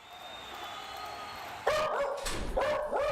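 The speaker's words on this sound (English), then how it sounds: "I don't know what's going on, but the dogs are going crazy." Several dogs bark excitedly, a sudden burst of loud yips and barks after a quiet stretch, continuing in quick overlapping volleys close by.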